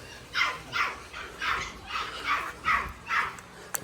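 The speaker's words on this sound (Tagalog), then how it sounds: "Ito yung bagong tuta dito." A new puppy at a house yips in a string of about eight short, high barks at a regular pace, fairly close, with faint background noise between them.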